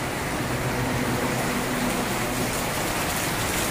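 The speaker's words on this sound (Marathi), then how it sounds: "बरं झालं बघा पाऊस पडलाय" Steady rain falls in a farming area, a dense, even hiss that fills the whole stretch without pause and sounds close and fairly loud.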